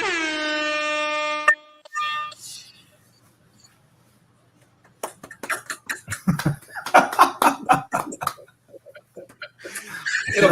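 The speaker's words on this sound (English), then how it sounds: "So here's an air horn for you" A loud, brassy air horn blasts for about a second and a half, followed by quiet and then a burst of clapping and cheering.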